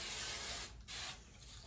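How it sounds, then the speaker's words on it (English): Hairspray hisses onto teased hair pushed up for a cheer competition ponytail, a close, loud continuous spray with a brief pause before a second burst. "you can push it up like this and spray it"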